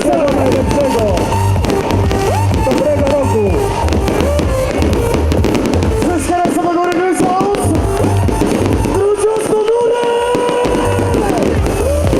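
New Year's midnight fireworks display: a dense, continuous barrage of loud bangs and crackling bursts rolling on without pause, with a crowd faintly audible underneath.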